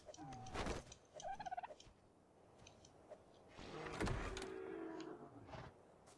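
Bird calls from a creature in ARK: Survival Evolved, heard as short gobbling, turkey-like bursts in a few clusters over steady game ambience, with no speech.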